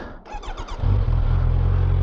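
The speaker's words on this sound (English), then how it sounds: "See how it sounds with the stock exhaust here." A 2025 Kawasaki Z900 motorcycle engine with stock exhaust starts up warm after a brief cranking whir, then settles into a loud, deep, steady idle rumble close by.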